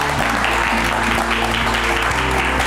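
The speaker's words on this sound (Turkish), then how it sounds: "Stüdyolarımıza alkışlarla kendisini davet edelim." Studio audience applause on a Turkish television talk show, steady, dense clapping close and loud throughout with no talking over it.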